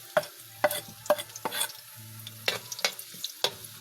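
Onion and garlic stirred in a hot pan while cooking dinuguan, with repeated scraping stir strokes over a low sizzle, close and fairly quiet, with no talking.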